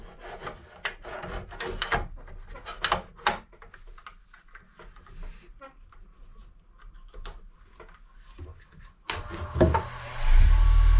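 Square carbide bit flattening the face of a wooden bowl blank on a small 10 by 18 lathe, giving intermittent scraping and rasping cuts with brief pauses, then a louder, denser burst of cutting near the end.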